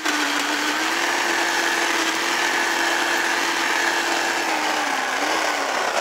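Power drill boring drainage holes through a retaining wall, a loud continuous whining grind that holds steady pitch for several seconds with a slight dip near the end, no talking.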